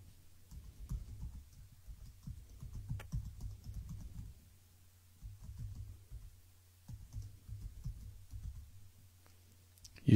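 Computer keyboard typing and mouse clicks while signing in with an Adobe ID, heard as close, quiet bursts of tapping that pause and resume, ending with a sharper click.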